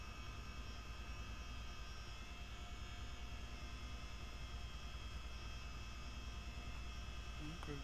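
Steady, heavy twin-engine CH-47D Chinook helicopter drone in a flight simulator game, deep throbbing hum, continuous and loud throughout with no breaks.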